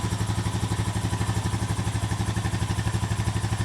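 A 2007 Honda four-wheeler ATV engine runs at a steady idle, producing a continuous rhythmic chugging putter that is close and even throughout.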